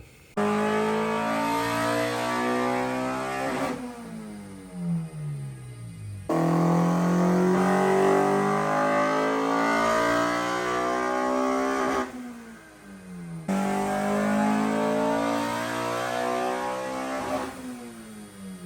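A Honda B16A engine with CTR pistons and ITR cam screams through repeated full-throttle dyno pulls, each rising steadily in pitch to a high-rev peak before cutting off, three runs in a row, loud and close.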